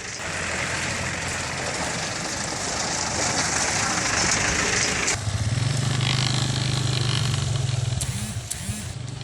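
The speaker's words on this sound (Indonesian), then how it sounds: "kami mencoba melintasi jalan rusak sepanjang belasan kilometer itu menggunakan motor" A motorcycle travels a long, damaged and potholed village road in Lampung, its engine droning loud and close throughout, shifting to a steadier low rumble partway through.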